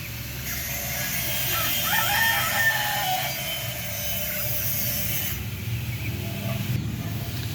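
Native chickens cluck and a rooster crows amid steady farmyard background noise, the bird calls fairly close and clear.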